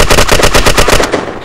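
Rapid automatic gunfire in the first-person shooter Red Crucible: Firestorm, a loud, close burst of about a dozen evenly spaced shots that cuts off abruptly near the end, with no voices.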